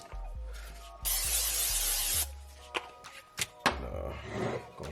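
Cooking spray hisses onto the bottom of a foil-wrapped Oreo cheesecake pan in a home kitchen, one loud sustained burst of about a second, surrounded by light clunks and handling knocks.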